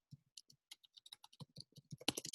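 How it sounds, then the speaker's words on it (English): A computer keyboard is typed on in quick, irregular bursts of light, crisp keystroke clicks, quiet and close, with no voices. "Keep typing and giving us reference, Ted,"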